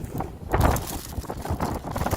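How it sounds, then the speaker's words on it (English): Gusty wind buffets the microphone with rumbling, uneven bursts of noise throughout, no voices. "It's windy."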